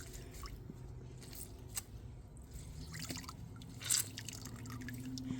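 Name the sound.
water dripping from a towel being wrung out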